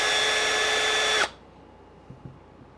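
A brushless power drill bogs down while drilling a 2 mm hole on an ARRMA Kraton 6S RC car during a rear wing mount job: a steady high whine for about a second, cut off abruptly, followed by a couple of faint knocks.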